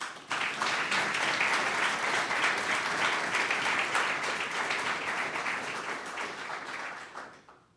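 A lecture audience applauds to welcome Professor Eric Adams to a law lecture series talk, dense sustained clapping that holds steady for several seconds, then thins and fades out toward the end.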